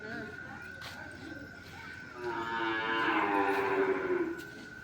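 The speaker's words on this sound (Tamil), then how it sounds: "உள்ளே வந்து காளை மாடு, குதிரை, பெரிய பெரிய மாடு இருக்கு பாருங்க" Cattle at a temple, with a long, swelling moo rising over a background of people talking and ambient crowd noise.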